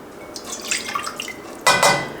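A cup of water for refrigerator pickle brine: a few light drips and clinks, then a short, louder rush of pouring near the end, close by.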